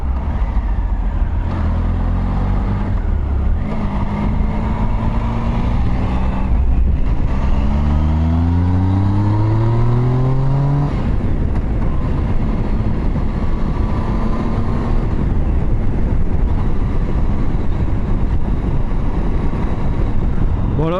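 A 2016 Triumph Tiger Sport motorcycle accelerating hard on the road, its loud engine note rising in pitch through repeated sweeps as it pulls through the gears, steady and close throughout, with faint wind noise underneath.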